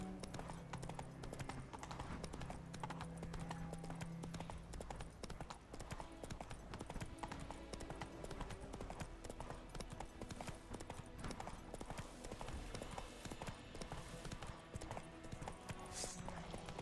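Geralt's horse Roach trotting in The Witcher 3, with a continuous even clip-clop of hooves under a steady wash of game ambience and music, occasional faint tack jingles, and no pauses.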